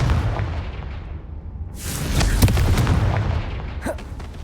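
A Confringo blasting spell bursts in Hogwarts Legacy, a loud explosive whoosh and boom swelling after a quieter lull, then rumbling on with a smaller crack near the end.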